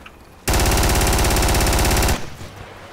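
Sustained MG3 machine gun burst in the military shooter Project Reality, a loud, dense, rapid-fire stream lasting under two seconds and cutting off abruptly, leaving a faint rattling tail and quiet background.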